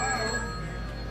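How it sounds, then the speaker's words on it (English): A telephone rings at Santa's Land, a vintage Christmas theme park in Putney, Vermont, with a brief ringing tone under steady outdoor background noise. "Somebody's calling Santa"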